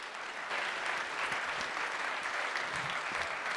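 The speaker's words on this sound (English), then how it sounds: "how about one more nice round of applause" Sustained applause from an audience at a university reconciliation forum, a steady dense patter of clapping that holds for the whole stretch without pause and with no voices over it.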